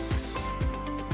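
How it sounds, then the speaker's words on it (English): Cooking spray hisses onto a Buc-ee's waffle maker in a quick burst at the start, followed by a few dull low thumps and handling sounds. "I'm gonna use a spray here. Spray it down."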